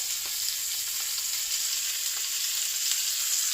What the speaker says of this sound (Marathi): फ्राय करूं लागला दोन दवरले